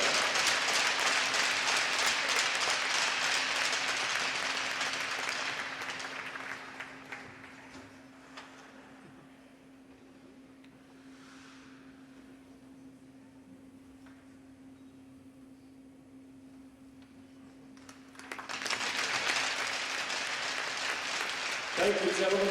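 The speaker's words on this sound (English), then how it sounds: "Let's have a nice round of applause." Crowd applause at a veterans ceremony during a college men's hockey game in an arena. Loud sustained clapping fills the first several seconds, fades into quieter room tone, then surges back strongly near the end. An announcer speaks in between.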